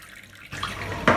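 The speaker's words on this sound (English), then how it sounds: "I'm washing the banga inside the warm water." Banga palm fruit being washed in warm water in a cooking pot: quiet at first, then a burst of splashing and sloshing liquid, with a louder slosh near the end.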